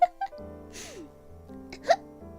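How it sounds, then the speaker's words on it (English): Hiccups from a woman, sharp short gulping catches near the start and again toward the end, close and fairly quiet against a faint tonal background. "Oh god, hiccup."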